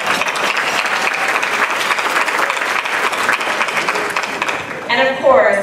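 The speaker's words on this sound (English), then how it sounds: "Let's give them a round of applause." Audience applause at a gala, a sustained dense wash of clapping from a large crowd, steady throughout and then tapering as a voice begins speaking near the end.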